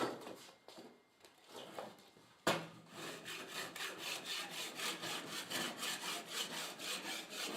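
A Surform rasp scrapes rhythmically back and forth across rough pallet wood, with a steady stroke pattern after a few hesitant initial passes, close and fairly quiet.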